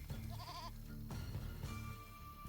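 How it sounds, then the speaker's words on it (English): A goat in a video game bleats in a couple of wavering calls, clear and close over a low game background hum, with no talking. "I heard the goats."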